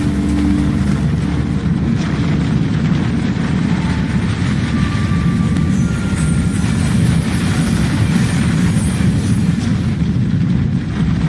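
A train rolls along in the video game Alice: Madness Returns, a steady, loud low rumble of wheels and machinery that runs unbroken throughout, with a faint higher whine drifting over the top.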